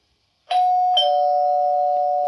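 A wireless remote apartment doorbell gives a two-tone electronic chime, ringing out clearly, ding then dong, the second tone sustaining loudly to the end after silence.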